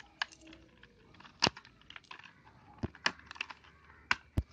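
Keycaps pried one by one off a very dirty PC keyboard, giving sharp isolated plastic snaps and clicks at irregular intervals over faint rustling handling noise, close and fairly quiet.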